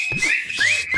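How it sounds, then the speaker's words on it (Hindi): A sharp, high whistle blown twice, each long shrill blast gliding slightly in pitch, close and loud amid a comic domestic scene, with faint low background sounds. "सीटी बजाओ।"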